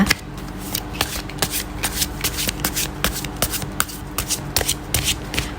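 Tarot cards shuffled by hand, a steady run of close, crisp riffling and sliding bursts with soft rubbing between them, no talking.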